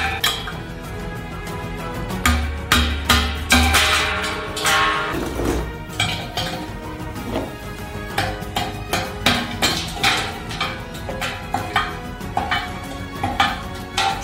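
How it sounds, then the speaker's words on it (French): A metal hammer repeatedly knocks excess ice off the top of a packed drum used for a 100-hour shawarma cook, sharp clanking strikes in an uneven rhythm with scraping between them. "Tout ce qui dépasse, on le dégage avec un marteau."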